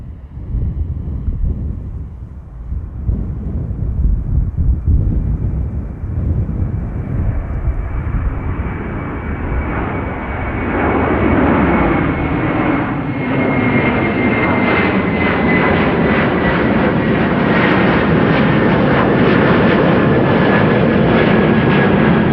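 A 20-year-old Airbus A330-200 jet airliner rolls down the runway on takeoff at Amsterdam Schiphol, a loud, swelling engine roar with a steady high whine that thickens as the jet powers away.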